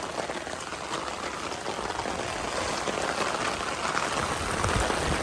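Heavy rain pouring over an open wetland, a dense, steady hiss of drops hitting water and ground, close and continuous with no voices.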